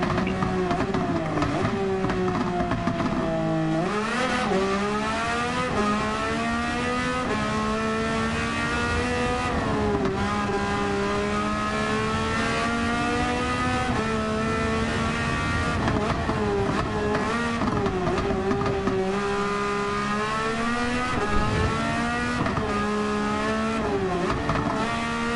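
A Porsche engine in Gran Turismo 7 drones steadily throughout while street cruising, its revs climbing and dropping through repeated gear shifts, loud and continuous with no voices.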